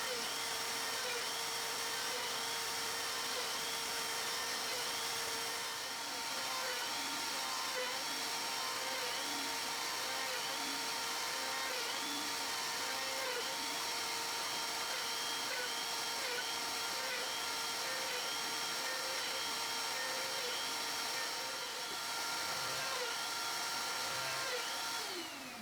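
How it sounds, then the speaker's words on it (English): A dust collection vacuum runs steadily on a home CNC router cutting a dining chair. The motor holds a constant, fairly loud whine and rush of air for the whole stretch, with some faint tool noise mixed in. "I love my new vacuum set."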